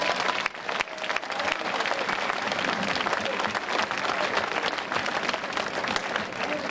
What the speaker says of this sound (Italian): Facciamo un grandissimo applauso.